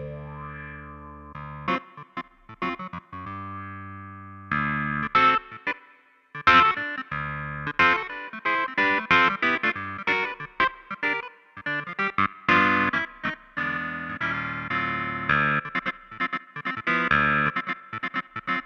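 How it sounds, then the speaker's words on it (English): A Nord Grand 2 stage keyboard plays a lively run of chords and notes, its tone swept by a rate-controlled filter effect, giving a warbling, shifting, effected sound that is loud and continuous throughout. "that rate knob, that's essentially kind of doing a filter sweep there"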